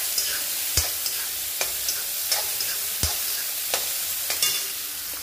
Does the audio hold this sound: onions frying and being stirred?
yes